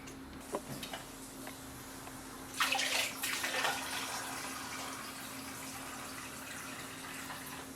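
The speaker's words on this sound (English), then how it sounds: "We're going to continue to fill this with water now." A brief gush of pouring water splashes into a Fluval 15-gallon Flex aquarium for a second or two, then settles into a quiet, steady trickle over a faint hum.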